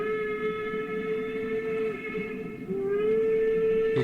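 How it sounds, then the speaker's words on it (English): A steam engine's whistle sounds from far off, a long steady tone that holds for several seconds, dips briefly, then returns a little stronger over a low rumble. "He heard a whistle in the distance"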